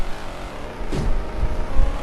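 Car engine in a racing video game, a loud continuous drone that swells as it revs, with no other sounds alongside.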